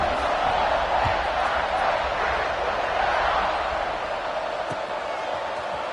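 Stadium crowd in a college football video game roaring steadily as the teams set up for a kickoff, a dense, continuous wash of cheering that fades slightly toward the end.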